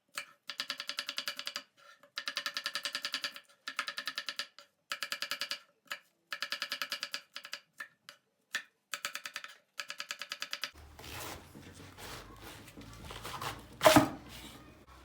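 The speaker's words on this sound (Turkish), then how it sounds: "Hemen soğanımızı doğrayarak işe başlayalım" A knife chops onion on a cutting board while a cabbage dish is being prepared, a run of quick, steady, rhythmic taps in short bursts with brief pauses, followed by softer rustling and handling sounds.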